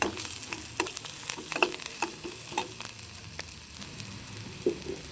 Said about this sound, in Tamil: முருங்கைக்கீரையோட அந்த வெங்காயம், முருங்கைக்கீரை, பச்சை மிளகாலாம் சேர்த்து நல்லா வதக்கிடுவோம்.